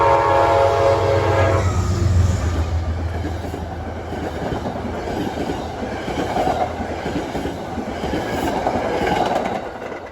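Amtrak Lake Shore Limited passenger train, a short New York section of coach, dinette, sleeper and baggage car behind a P32AC-DM locomotive along the Hudson, opening with a loud horn blast and then rolling past with steady rumbling and clatter.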